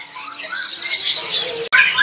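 A young white starling (jalak putih) at a bird market gives a few high, thin chirps and squeaky calls in quick succession, close by, ending with a sharp brighter note.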